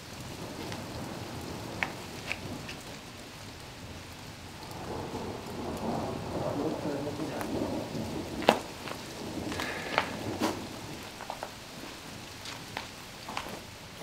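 Steady rain patters down on an old farmstead, a soft, continuous hiss with occasional sharp cracks and a low distant rumble of thunder rolling through the middle.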